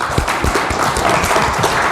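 An audience at a Daegak season religious gathering claps together, a brief, dense and steady burst of many hands heard up close.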